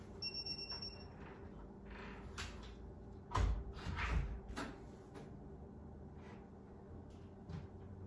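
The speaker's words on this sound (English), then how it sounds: "She shut the door." A door swinging shut inside a home kitchen, heard as one thud-like bump in the middle, with a couple of softer knocks after it, over a steady room hum.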